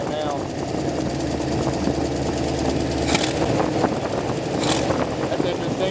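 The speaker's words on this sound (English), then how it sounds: "Backfiring now." A rough-idling V8 Mustang, revived after sitting for 22 years with a suspected misadjusted valve, runs steadily up close, with a couple of sharp pops around the middle and later in the clip.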